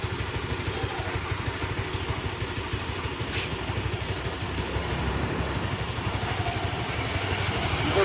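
A two-stroke motorcycle engine runs steadily nearby after ten minutes of running with an engine treatment product, a continuous rattly idle with a rapid low pulse and slight rise in level, no voices.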